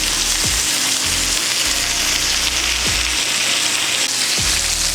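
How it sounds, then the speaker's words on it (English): A steak fries in a tilted pan while being basted, giving a loud, continuous close sizzle with a few soft swooshes of the spoon. "And then tilt the pan. And just baste your steak."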